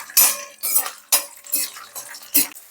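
Mustard seeds, cumin and peanuts in oil in a kadai, heard as a series of about six sharp metallic scrapes and clinks of a utensil against the pan, spaced roughly half a second apart.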